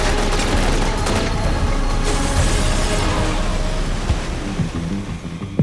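Enemy gunfire in Syphon Filter: Dark Mirror crackles as a dense, continuous fusillade, steady and loud throughout with a few sharper shots near the end.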